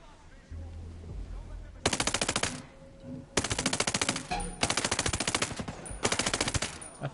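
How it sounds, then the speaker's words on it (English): An unsilenced gun fires in Ghost Recon Breakpoint, with four loud, close bursts of rapid automatic shots separated by short pauses. "I thought my gun sounded kind of loud"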